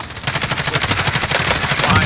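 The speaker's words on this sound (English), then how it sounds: "Taking fire!" Rapid automatic gunfire in Call of Duty Warzone, a loud close burst of evenly spaced shots running continuously for about two seconds.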